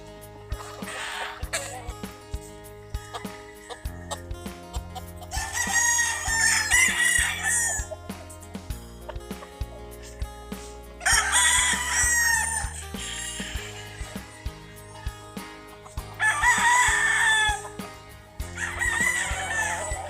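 Several roosters crow loudly in long, repeated calls, with clucking and other farmyard chatter filling the gaps between them.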